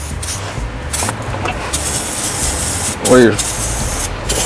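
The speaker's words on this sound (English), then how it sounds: "we'll take our anti-corrosive lubricant and spray everything" Steady hissing spray from an aerosol can of anti-corrosive lubricant onto a personal watercraft engine's moving parts, close and continuous, with a brief spoken phrase partway through.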